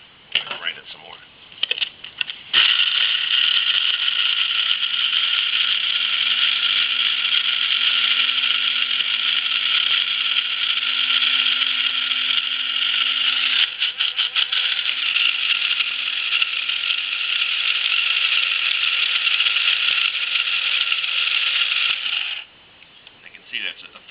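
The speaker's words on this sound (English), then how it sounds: "I'm going to grind it some more." Dried chilies are ground into chili powder in an electric grinder that whirs loudly and steadily for about twenty seconds with a brief stutter midway, with rattling before it starts and after it stops.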